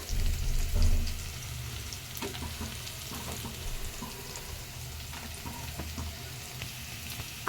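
Chopped onions frying with a little salt in a pan for an egg omelette, giving a steady, close broadband sizzle with a louder burst in the first second, then a constant crackle with faint clinks.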